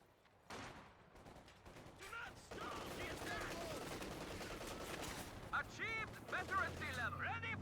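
DP light machine gun fire crackles in a strategy video game battle, bursts of rapid shots and explosions layered over ongoing combat noise, with some mechanical clatter and whistling effects.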